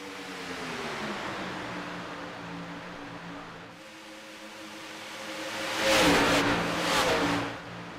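Pack of racing cars in a sled-car racing video game, a steady engine drone with shifting harmonic tones that swells into a louder rushing pass near the end, no talk.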